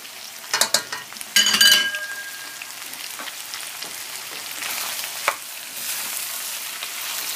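Coarsely knife-chopped garlic frying in a pan for sausage shawarma, with a steady sizzle and bursts of scraping stirring near the start, then a continuous crackling fry that runs on alone.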